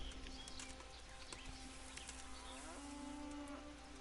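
Cow mooing in the video game Kingdom Come Deliverance, a faint, low drawn-out moo over quiet ambient game background with light bird calls, no talking.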